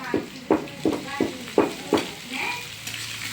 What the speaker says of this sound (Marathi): ही कूट आहे मोहरीचं ते आता ह्याच्यात घालणार आता वरून थोडस तेल घालणार